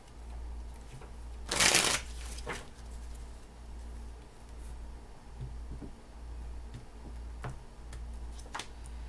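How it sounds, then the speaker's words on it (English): A deck of tarot cards is shuffled in one quick, loud riffling burst near the start, followed by faint scattered taps and card handling in a quiet room. "Last shuffle."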